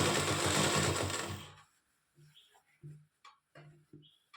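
A sewing machine stitches a kurti in a loud, fast continuous run that stops abruptly, followed by short bursts of speech.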